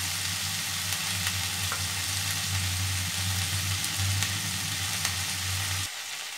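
Onion flower stalks, potato and brinjal frying in a pan, being stirred now and then; a steady close sizzle with low rumbling continues evenly for about six seconds, then drops off abruptly at the end.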